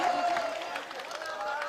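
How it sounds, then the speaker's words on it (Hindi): A mushaira audience claps and cheers for a few seconds, a steady wash of mid-distance applause with crowd murmur and no clear individual voice. "एक बार जरा जोरदार तालियां बजा दीजिए"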